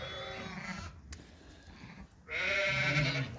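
A Suffolk ewe and her newborn lambs bleat in a barn, a drawn-out close bleat, a short pause, then another loud sustained bleat.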